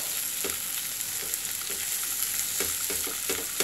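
Meat for a rice-and-meat dish frying in a pan gives a constant close sizzle with small popping crackles scattered through it, and no voices.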